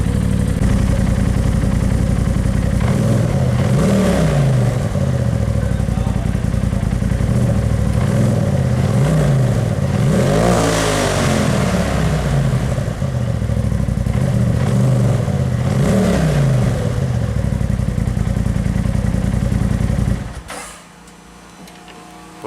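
A Polaris RZR Turbo S fitted with a Trinity exhaust and tune revs in neutral, loud repeated blips rising and falling over a rough idle, with a higher sweeping rev near the middle before the engine cuts abruptly near the end.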